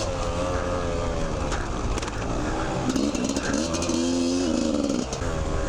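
A small Beta dirt bike engine ridden along tight single track, a continuous close motor drone with rising and falling revs and wind noise, no talk over it.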